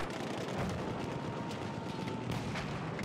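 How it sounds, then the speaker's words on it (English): Artillery in the First World War shooter Battlefield 1 fires in repeated dull booms that roll over a dense, continuous din of distant battle. "You know what that village needs some artillery."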